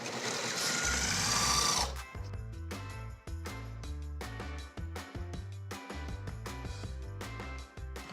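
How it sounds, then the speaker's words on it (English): Food processor whirring through a goat cheese spread with fresh herbs, lemon juice and olive oil: a loud rough burst at first, then a pulsing motor drone that dips briefly a few times. "I'm gonna let the food processor do the rest."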